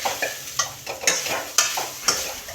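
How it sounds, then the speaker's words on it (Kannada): Grated coconut frying in a pan while a spoon stirs it, rhythmic scraping strokes about every half second over a soft sizzle, close and fairly quiet, no talk. "ತೆಂಗಿನಕಾಯಿ ಫಸ್ಟೇ ಹಾಕಿ ಒಂದೆರಡು ಸೆಕೆಂಡ್ ಈ ಥರ ಫ್ರೈ ಮಾಡಬೇಕು"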